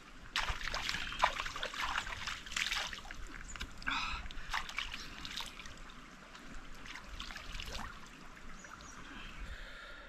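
Water trickles and splashes faintly in a shallow forest stream, a quiet, uneven babbling with occasional small splashes, no voices.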